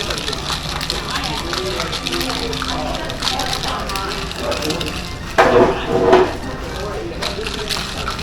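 Ice rattling and sloshing in a lidded cocktail shaker as a margarita is shaken, a loud burst of rattle standing out over steady background noise.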